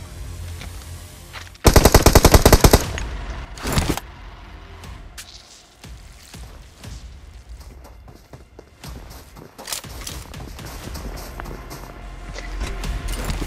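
DBS shotgun fire in the mobile battle royale game BGMI, a loud close burst of rapid shots followed by scattered single blasts, footsteps and clatter.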